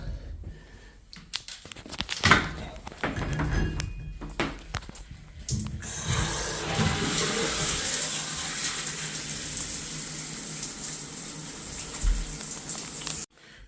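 Hot shower water running steadily from a newly fitted handle during a no-hot-water repair, a broad even hiss after some brief clunks and handling noises at the start, continuing near and alone until it cuts off.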